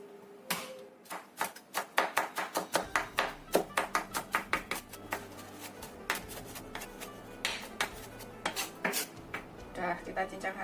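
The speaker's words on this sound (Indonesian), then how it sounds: "kemudian kita cincang halus" Garlic cloves finely chopped with a knife on a board, a fast run of sharp rhythmic knocks close by that pauses, then resumes in shorter bursts.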